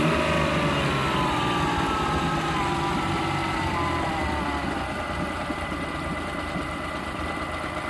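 A small outboard motor on a homemade boat runs steadily and settles into an idle, a loud continuous close engine drone with no breaks.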